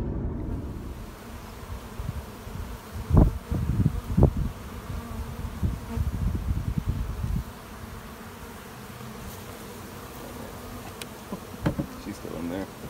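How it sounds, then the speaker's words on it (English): A large swarm of bees buzzing outdoors, a dense continuous drone with louder bursts as insects pass near the microphone in the first half, then settling into a steadier, softer hum. "Gonna be a lot of bees."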